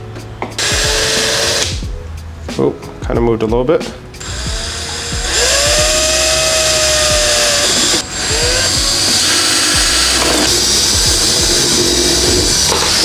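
A power drill bores 7/64-inch pilot holes in clearance plates for a BMW G80 M3 / G82 M4. Brief bursts come first, then a steady, loud whine runs continuously to the end, with a short spoken remark early on.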